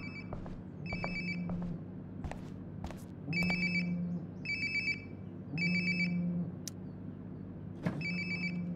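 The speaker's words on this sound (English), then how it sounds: "Sounds like my phone is definitely nearby." A cell phone ringing close by in Life Is Strange: Before the Storm, repeating a bright electronic ringtone pattern in regular bursts over a low background hum, with a couple of faint footsteps.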